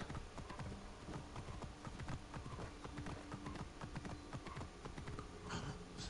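Horse hooves clip-clopping in the video game Assassin's Creed Origins, a brisk continuous run of close, sharp hoofbeats over a soft ambient bed, with no speech.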